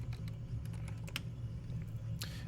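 Quiet, scattered keystrokes on a computer keyboard over a steady low hum, with a few sharper clicks standing out near the start, middle and end.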